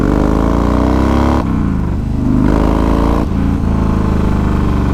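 A motorcycle rides on a wet road in the rain, its engine loud and close with a steady droning roar, two brief dips as the throttle eases before it pulls again, and no talking.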